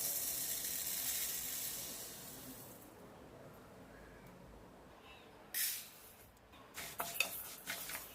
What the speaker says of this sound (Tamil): வறுக்கும் போதே இந்த மாதிரி கோதுமை எல்லாம் வெடிக்கிற சத்தம் கேட்கும்